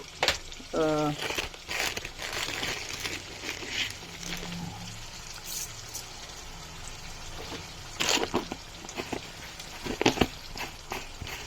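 Fenugreek seeds sizzle and crackle as they go into hot oil for a homemade lime pickle, a steady close frying hiss with a few brief louder pops and a short stretch of talk near the start.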